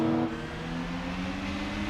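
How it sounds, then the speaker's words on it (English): A sports car with a modified exhaust in Gran Turismo 4 idles with a deep, throaty exhaust rumble, steady and close, with a slight rev at the very start. "It sounds more throaty now we've got a different exhaust on it."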